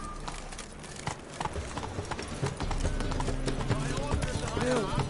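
Horse hooves clip-clop in a steady trotting rhythm in the video game The Witcher 3, with a brief whinny and voices speaking over the close, continuous hoofbeats.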